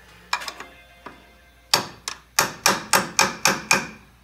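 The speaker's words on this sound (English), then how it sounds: "I'm going to use a little extender and a hammer." A hammer strikes a metal extender while installing ball joints on a 2013 Chevy Silverado, a few scattered taps then a steady run of about eight evenly spaced blows, close and crisp.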